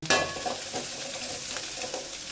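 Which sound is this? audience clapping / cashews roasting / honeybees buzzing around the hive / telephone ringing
cashews roasting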